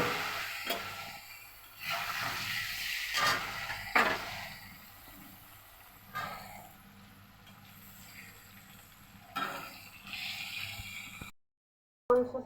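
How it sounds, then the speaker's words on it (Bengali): Potatoes go into hot oil and frying sets in, bringing a broad, steady hiss that swells and fades in several waves, fairly loud and close, before breaking off near the end. "তো তেলটা গরম হয়ে গেছে, আমি এবার আলুগুলো ছেড়ে দেবো।"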